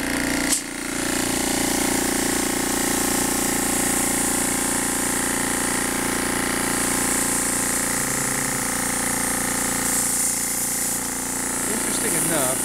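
Haskel 55808 nitrogen gas booster system with its compressor running, a steady loud mechanical drone with a pulsing hum and faint hiss throughout, and a person speaking over it.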